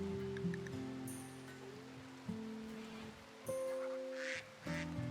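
Ducks quack in a RimWorld colony, several short nasal calls spaced across the clip over a steady tonal game music bed, fairly faint.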